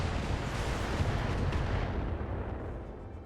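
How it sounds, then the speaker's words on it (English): Artillery fire landing on a target in the mech combat video game RogueTech, a dense, continuous rumbling barrage of booming impacts that holds loud throughout and tapers slightly at the end, with no voices. "Artillery is obviously going to be hitting that avatar."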